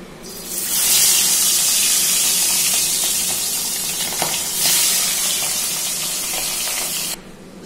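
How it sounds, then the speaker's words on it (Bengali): Tangra fish fry in mustard oil in a pan with a loud, steady sizzle that stays up close throughout, then cuts off abruptly near the end, with no talk. "এইবার আমি মাছগুলোকে ফ্রাই করে নেব।"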